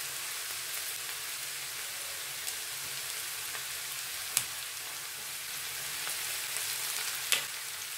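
Curry leaves and onions frying in a pan for a Kerala coconut milk fish curry, giving a steady, fairly quiet sizzle throughout with a couple of sharp pops or crackles.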